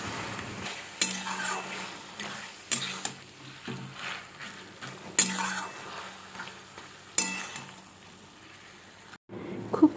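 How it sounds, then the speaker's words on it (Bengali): Hilsa fish heads sautéing with taro greens in a wok: a soft, quiet sizzle broken by a few sharp scrapes of a spoon stirring at regular intervals, with no talk. "মাছগুলো দিয়ে আবার খুব ভালো করে কষিয়ে নেব।"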